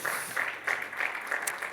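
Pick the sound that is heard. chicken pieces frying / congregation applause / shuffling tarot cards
congregation applause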